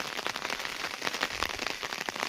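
Steady rain patters densely on surfaces outdoors in a small roadside settlement where people walk under umbrellas, a continuous close hiss with scattered sharper drop hits.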